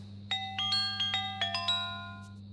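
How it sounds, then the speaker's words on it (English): A quirky jingle from the Teen Wolf Too film score: a quick run of bright, bell-like plucked notes stepping upward over a steady low hum, short and fairly quiet, with no talking. "there's this little jingle that's played in the movie every time something odd or quirky happens"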